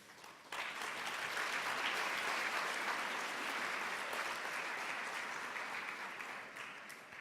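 Audience at a high school senior pinning ceremony applauds steadily for several seconds, a dense wash of clapping that starts abruptly and tapers slightly near the end, with no talking over it.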